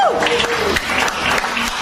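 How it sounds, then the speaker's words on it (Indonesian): A brief burst of congregation applause fills a religious gathering, dense clapping with a few voices mixed in, steady for under two seconds. "tepuk tangan buat Tuhan Yesus"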